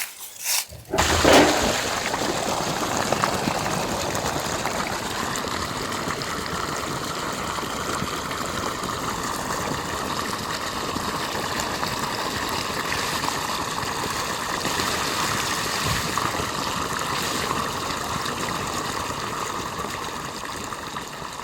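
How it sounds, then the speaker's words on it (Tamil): Water from a farm irrigation pump motor rushes steadily into a field prepared for sowing, beginning with a brief clatter and then a continuous, moderately loud flowing gush with a faint mechanical hum underneath. "இப்போ மோட்டர் போட்டு விடலாம் வாங்க."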